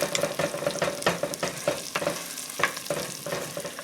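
Tomato paste stirred and cooking in a pot for a beef stew gives a steady close sizzle, broken by repeated short scraping strokes from the spoon.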